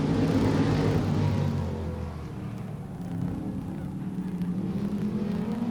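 Race cars at Silver State Raceway roar loudly through a turn, the engine noise swelling and fading as the field passes, with a broad rumbling wash of several cars at once.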